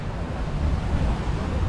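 Ocean waves washing onto a Caribbean-style beach with some sargassum seaweed in the afternoon, a steady broadband rush of surf with wind buffeting the microphone throughout, no voices.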